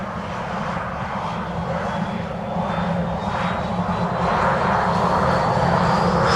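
An airplane takes off from runway 07 with a loud, steady broadband engine roar and a faint whine that slowly rises in pitch, building gently over several seconds with no voices.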